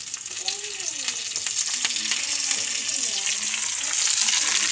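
Onions frying crisp in hot oil for a mackerel fish curry, a dense continuous sizzle and crackle heard close up, with a faint hum and occasional scraping stirs underneath.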